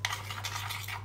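A spoon stirs melted chocolate in a bowl, making soft, faint, repeated scraping strokes against the bowl at an easy steady pace.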